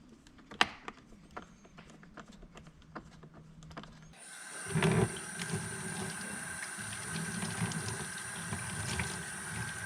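Quiet clicks and taps give way to running water splashing steadily, close by, as Stihl MS260 and MS170 chainsaw parts are rinsed under a flowing stream.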